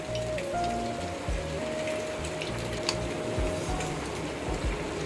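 Beaten eggs are poured into a hot pan among prawns and sizzle, making a dense, steady crackling hiss close by, with a faint tonal hum underneath.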